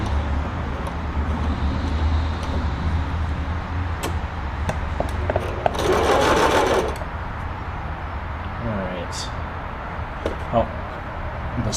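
A Euro-Pro sewing machine stitches in a short burst of fast mechanical whirring, with scattered ticks and clicks before and after and a person talking over it.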